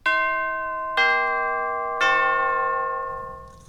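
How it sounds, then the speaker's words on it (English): Tubular chimes, a mallet percussion instrument, ring out as three separate struck tones about a second apart, each bright metallic strike sustaining and overlapping as it slowly decays. "These are Chimes."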